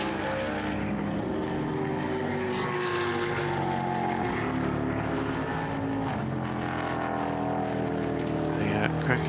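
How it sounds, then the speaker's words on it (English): A V8 Vortex GT race car engine at an endurance race at Portimão gives a steady, loud drone held for the whole stretch, with tonal engine harmonics and a commentator's voice running over it. "Just enjoying the sound of the V8 Vortex."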